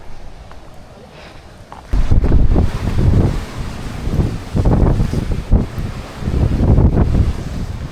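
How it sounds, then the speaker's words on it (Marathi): Strong wind sweeps across Malshej Ghat, starting as a low hiss and then breaking into loud, gusty buffeting against the microphone that rises and falls for several seconds. "हवेचं प्रमाण बघा कितपत आहे"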